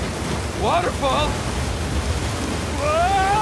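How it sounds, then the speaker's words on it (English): Steady rushing water roar from an Uncharted 4 video game waterfall fills the whole stretch as broadband noise, loud and close, while characters shout over it. "Waterfall! Waterfall!"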